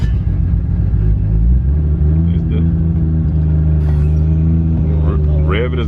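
Lexus SC400 with a swapped JZ engine, rated over 700 horsepower, rumbling loudly at close range with a deep, throbbing idle and rising revs, while people talk over it.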